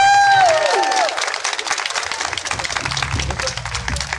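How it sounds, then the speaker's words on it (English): A crowd at an outdoor Obon festival applauds and cheers for Los Angeles mayor Eric Garcetti with loud, sustained clapping, while a fading musical tone at the start gives way to low background rumble. "Ladies and gentlemen, please give a round of applause to our mayor"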